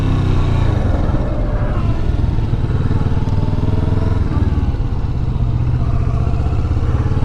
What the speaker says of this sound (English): It's got a parallel twin 650cc engine in it